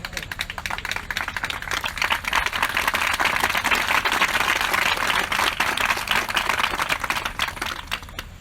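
An audience claps during an Odia Christian sermon: dense, steady applause that swells in the middle and thins toward the end, heard alone without speech.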